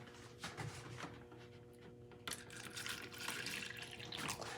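Tap water runs steadily into a water cup, a continuous splashing flow with a brief louder surge partway through, heard close up with no one talking.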